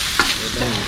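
Pad thai frying on a gas stove at a Thai cooking school, with a steady sizzle and a spatula stirring and scraping through the noodles in one short burst, no voices.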